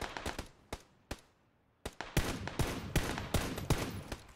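Gunfire in a shooter video game: sharp bursts of shots, a few spaced single cracks and then a faster ragged volley, close and loud, with no talk over them.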